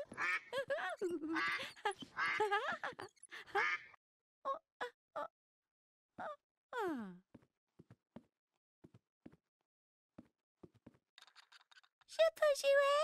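A plastic toy duck quacks several times in short squeaky bursts, with people talking between and around the quacks.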